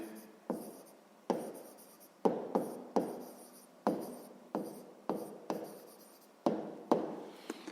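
Someone writes with a pen on paper while working a 6th-grade math exercise: a dozen or so short, scratchy strokes in an uneven rhythm, close and quiet, with a faint room hum between them.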